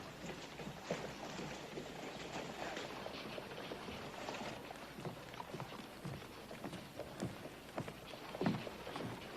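Horse hooves clop in a steady uneven rhythm over a busy, noisy background, moderately loud throughout with no clear speech.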